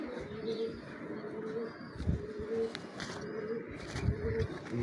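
Low, throaty cooing from a Lal Pari pigeon repeats in soft rolling phrases, close by, with some faint background noise and scattered light chirps.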